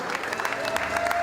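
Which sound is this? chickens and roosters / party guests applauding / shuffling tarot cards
party guests applauding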